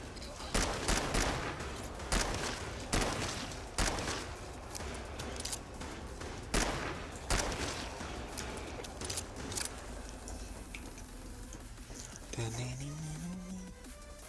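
Revolver shots ring out in GTFO, a string of sharp, loud single cracks spaced irregularly at first, then thinning out into quieter ambient noise with a low rising tone near the end.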